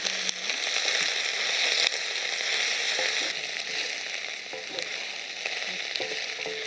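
Boiled cauliflower pieces fry in hot oil with ginger, giving a dense, continuous sizzle that stays loud and even throughout, with faint utensil clicks now and then.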